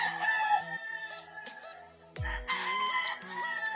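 Several young gamefowl stags crow at a breeding farm in Mabini, Batangas. The calls overlap one after another at close range, and there is a low thump partway through.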